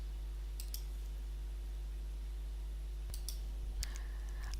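Mouse clicks while working with a lasso selection tool in photo editing software, a few faint, sharp clicks spaced out over a low steady hum, close but quiet.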